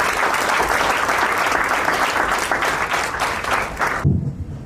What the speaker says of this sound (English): A big round of applause to all of you.